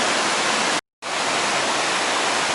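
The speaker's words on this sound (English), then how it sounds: "Now here's a tributary stream going down into the Afon Ysgethin." A tributary stream rushes beneath a slippery footbridge on its way to the Afon Ysgethin, a loud, steady broadband roar of running water close by, broken once by a short total dropout.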